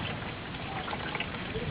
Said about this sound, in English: it's raining, but it's like the wind is blowing hard enough that the rain is like a mist.